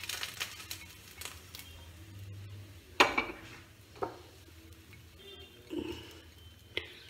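Homemade fried rice being tipped from a pan into a serving dish, with a sharp metallic clank, scattered scrapes and taps of a spoon against cookware, close and fairly quiet, no talking.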